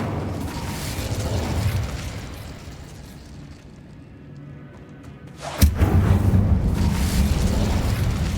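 A fire spell cast in Hogwarts Legacy: a sudden sharp burst around the middle, followed by a sustained loud roaring rush, over a rumbling game backdrop with no talking.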